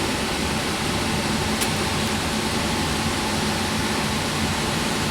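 A heat pump blower motor runs steadily, a constant close broadband whoosh of moving air with no change in level and no talk.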